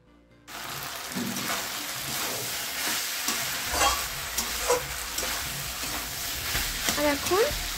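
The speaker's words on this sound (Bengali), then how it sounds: "আর এদিকে আলু আর পনির দুটোই ভেজে রাখছি।" Potatoes and paneer fry in hot oil with a steady close sizzle, broken by small clinks and scrapes of stirring; a voice speaks faintly over it.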